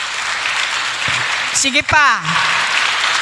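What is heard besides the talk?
audience applause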